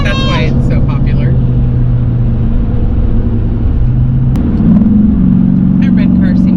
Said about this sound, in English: That red car seems to be in a big hurry.